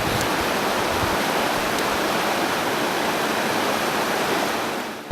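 Rushing floodwater pours loudly through a once-small backyard creek, about four feet across, in Colorado flooding, a dense steady roar that holds constant before easing slightly at the end.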